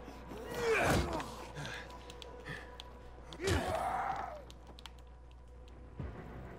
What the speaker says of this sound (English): I hear zombie breathing.